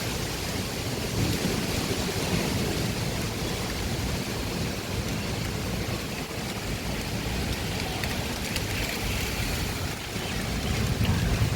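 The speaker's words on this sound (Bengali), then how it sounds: "কি সাংঘাতিক ঝড় না, এই মুহূর্তে বাইরে থাকাটা ঠিক নয়। ভালো জোরে বৃষ্টি পড়ছে" Heavy rain pours down steadily in a windy storm, a dense unbroken roar of water with no voices, loud and close throughout.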